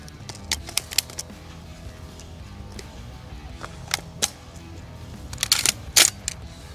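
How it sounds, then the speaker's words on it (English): A shotgun shell is pushed into an ATI Bulldog magazine, giving a string of sharp metallic clicks and snaps close to the mic that bunch together toward the end over faint background noise. "We're gonna put same round back in the magazine and see if it's gonna cycle again."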